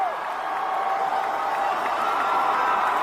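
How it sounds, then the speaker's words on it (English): Large Comic-Con hall audience roaring with cheers and applause, a continuous, dense, distant-sounding wall of crowd noise with no clear breaks. "Crowd erupts. Into cheers and applause."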